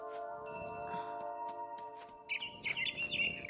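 Bird chirps from the mama bird in the video game What Remains of Edith Finch, bright short calls that grow busier and louder toward the end over a sustained tonal game backdrop with scattered soft ticks.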